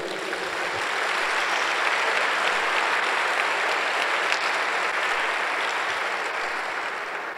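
Sustained applause from a church congregation during a Sunday worship service, steady and dense clapping that fills the room from start to finish with no talk over it.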